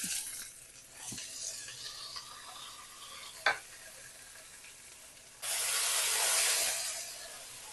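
Onions sizzle and hiss steadily in a hot pan for mutton chops, with occasional scraping stirs, then a louder burst of bright frying hiss swells near the end.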